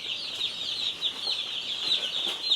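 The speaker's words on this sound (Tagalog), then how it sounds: "Tuwan-tuwa ang aking mga sisiw." A crowd of young chicks in a barn peeping and cheeping continuously, a dense, high, overlapping chorus heard close up with no pauses.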